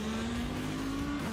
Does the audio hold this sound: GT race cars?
yes